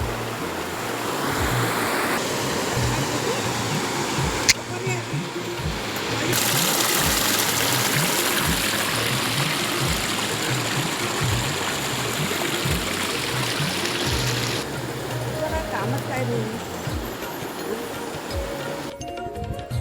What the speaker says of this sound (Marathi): हा दिसतोय तो धबधबा